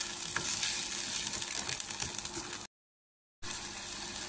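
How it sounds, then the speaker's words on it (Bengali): Onion and garlic fry with salt in a pan, making a soft, steady sizzle and crackle heard close up. A brief silent gap breaks the sound before the frying resumes unchanged. "আমার পেঁয়াজ রসুন ভাজা হয়ে গেছে"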